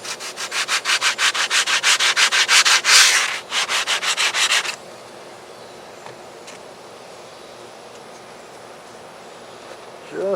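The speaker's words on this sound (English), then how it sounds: "So I'm going to start sanding down the backside of the elevators." A sanding block rubs in quick, rhythmic back-and-forth strokes across the styrofoam elevator of an RC airliner model, loud and close, then stops, leaving quiet outdoor background.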